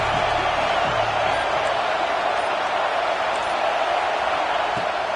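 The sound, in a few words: football stadium crowd cheering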